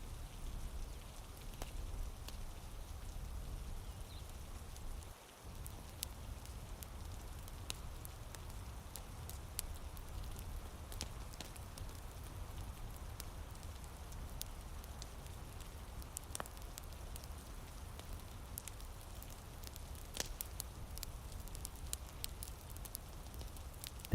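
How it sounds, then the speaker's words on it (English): Steady night rain falls outdoors by Hadrian's Wall, a continuous soft hiss with a faint, barely audible crackle of a burning fire beneath it; no one speaks. "The soft sound of the flame, barely audible beneath the rain."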